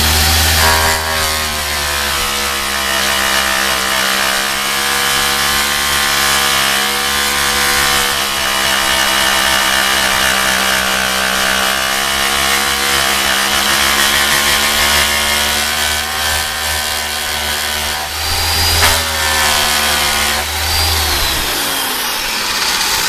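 An angle grinder with a 36-grit disc works a small dent on a 1978 El Camino, holding a loud, steady high-pitched whine with a low motor drone for about twenty seconds before spinning down near the end.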